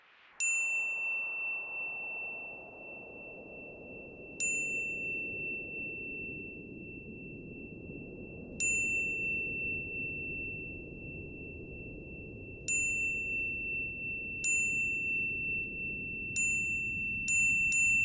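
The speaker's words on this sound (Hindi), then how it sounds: "फिर से घंटी बज रही?" A bell rings in a series of bright, clear single strikes, about seven spaced through the stretch, each ringing on with a long sustained tone over a low background wash, with no talking.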